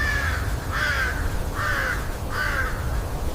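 A crow caws four times in an even rhythm, loud and close, over a constant low rumble of background noise, with no voices.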